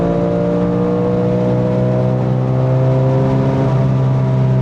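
A Porsche 996 GT3 flat-six engine on a race track holds a loud, high, steady drone and then climbs in pitch as it revs harder, smooth and continuous with no pauses.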